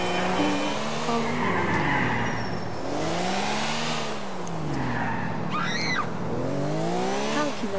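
A Lamborghini driving hard in GTA 4, a loud engine rising and falling through gear changes with sustained tire squeal and skidding throughout, close and continuous.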